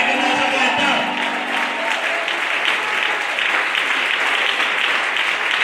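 Congregation applauding during a church service, a dense steady clapping that fills the space from start to finish, with a brief murmur of voices near the beginning.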